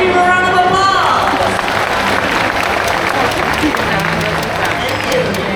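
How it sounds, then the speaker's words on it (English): Loud crowd applause for an owl at a bird show in Bird Paradise, a dense steady patter of many hands clapping after a brief spoken voice at the start, continuing for several seconds. "Let's give him a round of applause."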